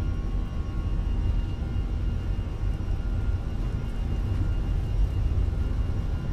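Fenix A320 airliner in a flight simulator game rolling for takeoff, a steady loud engine roar with broadband rumble holding even throughout, no talk.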